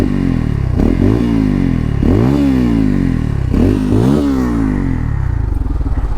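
A Bajaj Pulsar N250 motorcycle with a double-barrel exhaust revs loudly and close by, several throttle blips rising and falling over a deep, continuous burbling engine note.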